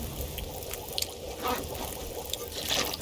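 Water simmering and bubbling over a fire in The Long Dark survival video game, a soft continuous trickling fizz with faint pops, heard alone at low volume.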